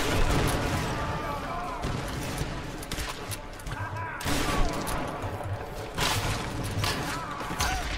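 Dense, continuous gunfire in the action game Tomb Raider, a loud rattling barrage of shots with clattering mechanical noise throughout, and a voice talking over it.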